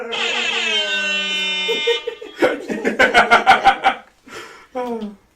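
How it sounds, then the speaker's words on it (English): A loud, blaring air horn blast with a descending pitch sweep, followed by rapid repeated horn bursts and another short honk. "You finally got a Jamaican Buzz air horn."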